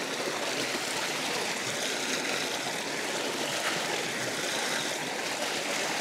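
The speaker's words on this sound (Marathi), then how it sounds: "असं वाटतंय जमिनीच्या आतमधनं 1000 फुटावने खालनं पाणी येतं" Fresh spring water wells up from deep underground and flows in a steady, close, hissing rush that stays even throughout.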